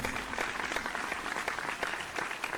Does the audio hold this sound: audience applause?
yes